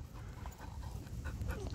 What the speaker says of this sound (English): Malinois German Shepherd mix. With some black lab.